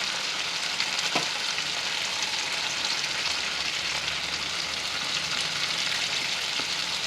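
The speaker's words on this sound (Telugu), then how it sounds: "ఇప్పుడు చుక్కకూరను వేసి బాగా వేగనివ్వాలి" Sorrel leaves (chukkakura) fry in hot oil in a pan, giving a steady, even sizzle and crackle throughout with a few faint clinks.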